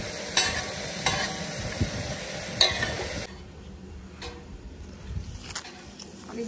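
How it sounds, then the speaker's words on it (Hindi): A ladle stirs chicken pieces frying on an iron tawa outdoors, scraping and clanking against the metal in repeated strokes over a steady sizzle, close and fairly loud, which quietens partway through. "और ये कड़छी चलाते रहेंगे ताकि ये जो लोहे पे है ना, बोटी थले चिपक जाती है, वो नहीं चिपकेगी।"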